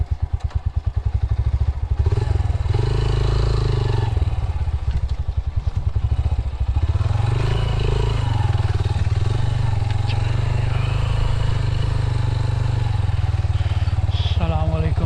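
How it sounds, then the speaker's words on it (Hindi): A motorcycle rides over a rough, unpaved path near a graveyard in Pakistan, its close engine droning steadily for about fifteen seconds with rattling clatter and thumps from the bumpy ground. "लेट्स ट्राई कि बाइक चली जाए किसी तरह।"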